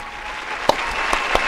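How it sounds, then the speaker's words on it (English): A crowd applauds in a standing ovation, a dense steady patter of clapping with a few sharper, louder claps standing out. "The crowd, I think it's actually a standing ovation. I still hear the crowd going."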